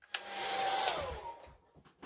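A heat tool blowing hot air over mixed media paper, a steady close whirring rush lasting under two seconds that starts and stops abruptly, with no talking.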